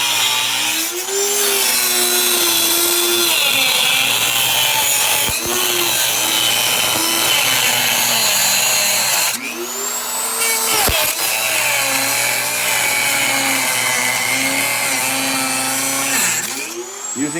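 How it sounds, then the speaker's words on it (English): A Dremel rotary tool with cutoff discs grinds through bolts on a boat deck, a loud, close, sustained high-pitched whine whose pitch sags and recovers as the disc bites into the metal, with no talking. "Using my handy dandy Dremel with some cutoff discs."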